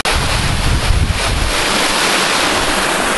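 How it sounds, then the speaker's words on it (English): A small waterfall along a walking track in Connemara, a loud, continuous broadband rush of falling water, heavily buffeted by wind noise on the microphone during the first seconds. "Lovely little waterfall."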